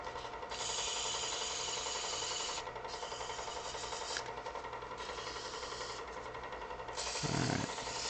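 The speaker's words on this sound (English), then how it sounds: "So when you're sanding your finials" Wooden finials being sanded give a faint, steady rasping scrape in long passes separated by brief pauses, with no talking.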